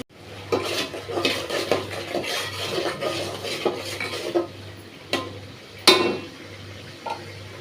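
Radishes go into a pan of butter fish as a spoon scrapes and stirs in steady strokes, with soft frying underneath and a few sharper clinks against the pan.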